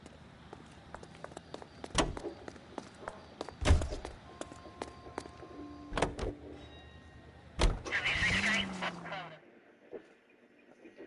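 A car in the video game L.A. Noire: several heavy door thuds, then the engine starts and revs loudly before fading off, with voices heard between the sounds.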